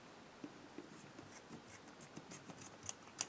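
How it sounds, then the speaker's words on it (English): Scissors snip through yarn for a tassel with a twisted cord, giving faint, close, irregular small cuts and clicks over a quiet background. "And now we can cut our yarn."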